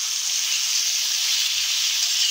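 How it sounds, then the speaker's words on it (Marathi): Onion fries in butter with a steady, even sizzle in a pan while chole is cooked, a short continuous hiss with no voices. "त्यानंतर त्यामध्ये ना आपल्याला कांदा आधी घालून घ्यायचा आणि कांदा मऊसर होईपर्यंत थोडासा परतून घ्यायचा।"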